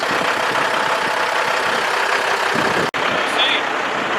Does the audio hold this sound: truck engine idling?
yes